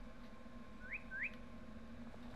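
Two short rising whistles in the video game Virginia, quick upward swoops a fraction of a second apart over a low steady hum, fairly faint and with no voices.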